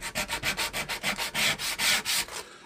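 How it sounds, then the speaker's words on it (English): Wooden boards being sanded to remove burn marks, a steady rhythmic rubbing in quick back-and-forth strokes, close and fairly loud, with no voices. "sanding the burn marks off."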